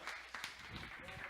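A church congregation claps together in a steady patter of applause during a service, faint and a little distant, with speech mixed in.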